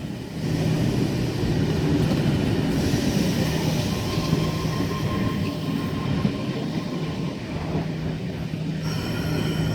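S-set electric train departing platform 1 at Newtown station, a steady loud rumble of wheels and motors with faint squeal, continuous throughout without speech.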